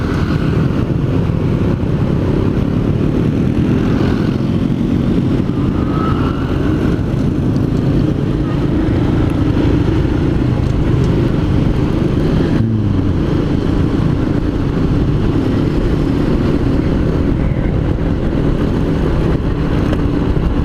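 A motorcycle just back from the workshop rides along a road, its engine droning steadily and loud close by, rising slightly with gentle throttle under continuous wind and traffic noise.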